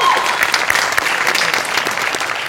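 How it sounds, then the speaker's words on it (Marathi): A live comedy-show audience gives a steady, dense round of applause lasting throughout, loud and close, with a faint cheer mixed in and no clear speech. "तर मेकअप दादांसाठी एकदा जोरदार टाळ्या होऊन."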